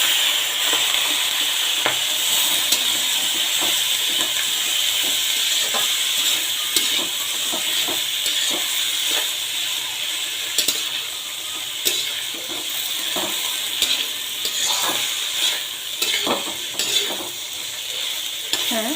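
Seasonal vegetable bhaji with chopped green chilli is stir-fried in a pan, a constant loud sizzle and hiss broken by frequent clinks and scrapes of stirring.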